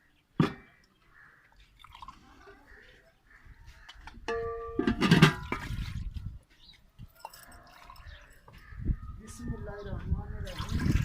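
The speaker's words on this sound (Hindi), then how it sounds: "ये 3 कप जो है दूध के डालेंगे" Three cups of milk poured into a kunafa mixture of cornflour and other dry ingredients during outdoor village cooking, a soft liquid splash and trickle lasting several seconds alongside background voices and some animal and clatter sounds.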